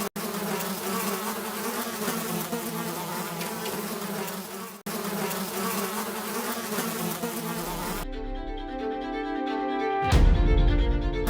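Bees swarm around a honeycomb in the wild as a bear and baboon raid it, a dense continuous buzzing that stays loud and close, then thins to a few nearby insects before a brief rush of noise at the end.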